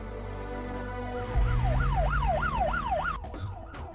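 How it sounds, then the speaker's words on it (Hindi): A film's emergency vehicle siren wails in a steady rising-and-falling cycle over a low rumble, loud and approaching, then cuts off near the end. "ये तो पुलिस का सायरन है।"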